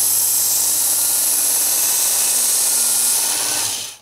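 A WorkSharp Ken Onion Edition belt sharpener grinds a knife blade with a continuous bright, gritty hiss and whir, loud and close, cutting off abruptly at the end.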